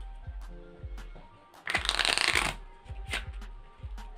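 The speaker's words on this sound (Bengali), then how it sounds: "Etake ekta refill shuffle diye dei." A full deck of playing cards is riffle shuffled, with a dense crackling burst of flicking cards in the middle, framed by softer handling taps and light shuffles before and after, all close up with no speech.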